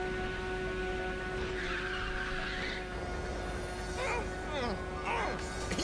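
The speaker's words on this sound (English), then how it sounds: "you would never be able to drift a car like this in real life" Car drifting through a corner in the Ridge Racer 6 racing game, with steady engine drone and a drawn-out screech of tire squeal over continuous game music and effects.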